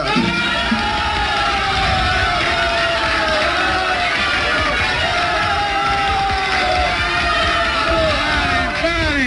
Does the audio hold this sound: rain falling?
no